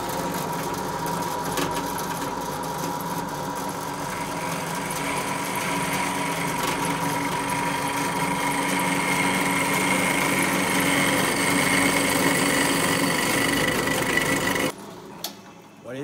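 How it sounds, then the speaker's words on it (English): Drill press fitted with a milling blade running in a workshop, a steady high-pitched motor whine with grinding and rasping overtones held constant for about fifteen seconds before cutting off abruptly near the end. "I put a milling blade in my drill press, and let's just fire this baby up."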